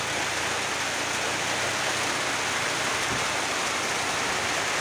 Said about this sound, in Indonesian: Hujan deras, posisi di kebun,